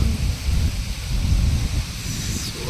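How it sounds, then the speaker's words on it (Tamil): Strong wind blows outdoors before expected rain, a loud, steady, close rush with low rumbling buffets against the microphone and a broad hiss. "சரி இந்த காற்று அடிக்காமல் இருந்துச்சுன்னா மழை வந்துடும்"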